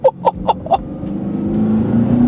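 A Honda supercar engine blips and revs on a downshift, a few sharp throttle pulses followed by a rising, sustained engine drone, heard up close from inside the car with no talk.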